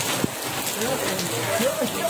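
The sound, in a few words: rain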